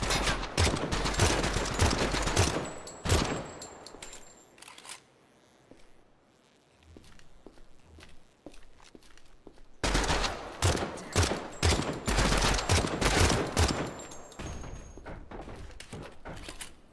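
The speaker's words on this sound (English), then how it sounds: "I'm moving and shooting." Rapid gunfire in a multiplayer shooter video game as a player moves and shoots: loud, dense bursts of shots, a quieter lull in the middle, then another sustained volley.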